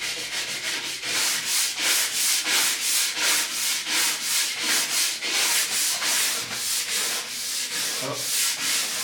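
A scraper drags old wax off a ski base in quick, regular strokes, each pass a loud, close rasping scrape repeated evenly with no talking.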